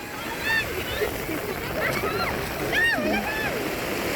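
Strong waves splashing and washing in at a beach gathering where people are out swimming, a steady rushing surge under excited voices calling out.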